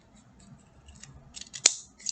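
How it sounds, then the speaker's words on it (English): Small scissors snip cardboard in a few quiet, light cuts, ending in one sharper close snip, with no talk over it. "just go back in and do some snipping now"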